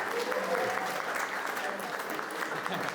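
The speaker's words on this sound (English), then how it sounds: "We'll do a round of applause for everybody." Wedding guests applaud at a reception, a dense, even wash of clapping that carries through the whole short stretch at moderate volume.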